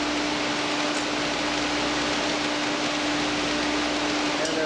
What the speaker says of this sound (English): We have some of the air knives now.